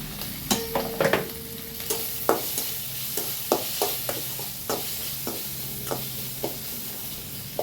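Chopped tomato stirred into sautéed onions frying in a pan, a soft continuous sizzle broken by repeated sharp scraping clicks of the spoon against the pan, close and clear.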